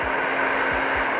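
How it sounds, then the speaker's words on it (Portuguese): A hair dryer blows on hair while dreadlocks are being made, a close, constant airy roar that stays steady throughout with no pauses. "Olha só como é que o secador fica"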